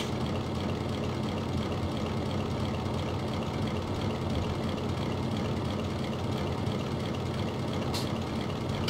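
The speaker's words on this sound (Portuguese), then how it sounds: "Parece que tá chovendo pra caramba, mas é só o barulho do motor" A low, rumbling engine of an old Ford truck in Farming Simulator 17 idles steadily with a constant rough drone, no voices over it.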